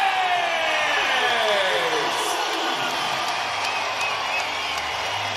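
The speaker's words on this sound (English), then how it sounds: "Listen to the crowd." A boxing arena crowd roars in a sustained, loud wash of cheering and whoops for Oscar Valdez after his technical knockout win, with sweeping tones drifting through the noise.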